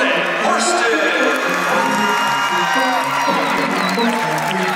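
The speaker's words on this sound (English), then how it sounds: "Let's give a big round of applause to this evening's most valuable player from the East team" A crowd at a basketball event cheers and applauds for the East team's most valuable player, a loud, dense roar of clapping and whoops that holds steady throughout.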